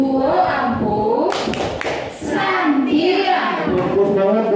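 A room of adults joins a rhythmic 'tepuk semangat' clap chant, bursts of hand claps and thuds mixed with loud group speech and chanting voices throughout.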